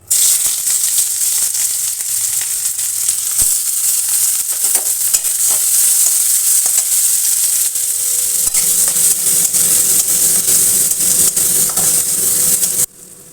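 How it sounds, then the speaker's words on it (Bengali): Loud, steady sizzling of onions frying in hot oil, with occasional stirring scrapes, continuing until it cuts off abruptly near the end. "তেলটা গরম হয়ে গেছে এখন পেঁয়াজ কুচিগুলো দিয়ে দেবো"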